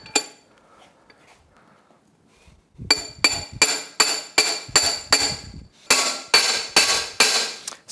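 Hammer blows driving an aluminum driver into a MerCruiser Bravo 2 sterndrive gearcase, about fifteen sharp ringing metallic strikes in an even rhythm after a quiet start, close and loud.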